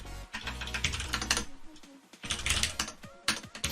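Fingers type steadily on a computer keyboard in quick bursts of crisp key clicks, with a brief pause midway before rapid typing resumes, close and alone.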